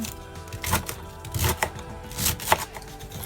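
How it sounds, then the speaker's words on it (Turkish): Quick, uneven knife chops tap against a cutting board as chard stems and leaves are finely cut, a few sharper cuts standing out in a short burst of chopping. "Sonra yapraklarını doğramaya başlıyoruz. Bunları da ince ince doğruyoruz."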